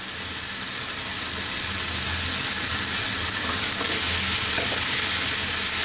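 Thai beef sizzles loudly in a hot pan during a stir-fry, a dense, constant hiss and crackle that stays close and steady with no talking.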